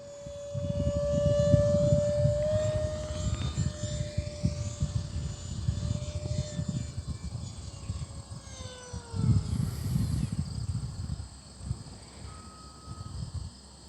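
An E-flite Habu 50mm electric ducted fan RC jet takes off downwind and flies past, its thin high-pitched whine holding steady, then sliding in pitch as it passes overhead at moderate distance, with no talking.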